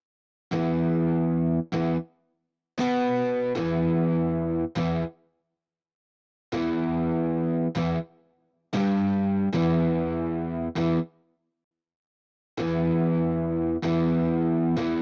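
A distorted, effects-laden instrument processed through a PSP Nexcellence spring reverb plugin plays sustained chords in separate bursts with short silences between, each note ringing with a springy, echoing tail.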